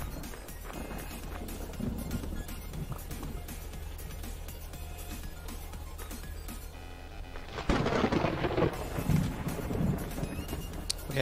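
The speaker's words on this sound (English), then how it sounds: "Another lightning storm." A lightning storm's thunder in the survival crafting game MewnBase: a sudden, loud, rolling rumble breaks in partway through and carries on over steady background game ambience.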